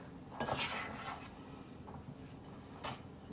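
Pie dough for fried peach hand pies is stirred together with butter in a bowl, giving soft scraping and a few light clinks of utensil against the bowl, moderately quiet with no speech.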